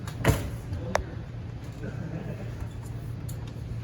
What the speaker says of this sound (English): Open up your door.